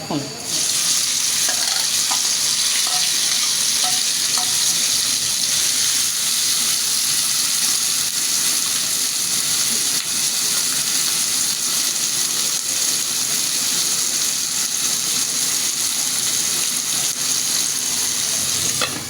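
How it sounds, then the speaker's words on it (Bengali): Steady, loud sizzling of shrimp frying in spiced oil with onion and chili, with occasional stirring scrapes, continuous throughout and no voices. "চিংড়ি মাছটা ভাজা ভাজা হয়ে গেছে মশলার সাথে একটু কষিয়ে নিলাম"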